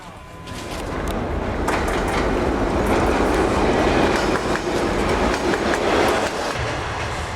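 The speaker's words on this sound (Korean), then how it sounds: "이제는 기차가 오가고" A train running along the Silk Road railway out of Xi'an, its steady loud rumble and rhythmic clickety-clack of wheels close and continuous throughout, with no talking.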